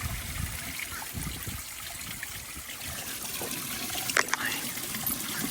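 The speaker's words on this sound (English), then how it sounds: "So now whatever water is inside of here or in this pipe is gonna come out." Water drains from a loosened pipe on a leaking pool pump, a soft, steady trickle and dribble throughout. A brief clank near the end, with faint background noise underneath.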